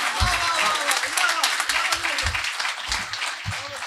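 Loud audience applause at a Hindi kavi sammelan poetry gathering welcoming a poet to the stage, a continuous crowd clapping wash with low thumps and a voice speaking over it.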